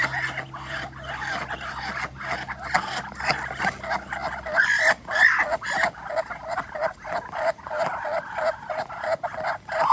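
Several Muscovy ducks on a ranch squabble in a busy, overlapping run of harsh rasping calls and scuffling, fairly close and continuous throughout.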